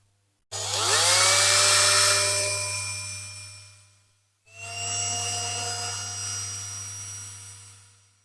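A high-pitched drill whines loudly as it bites into the metal diecast base of a Dinky Toys Mercedes-Benz 220SE model, runs for several seconds, pauses briefly, then starts again with a steady grinding tone.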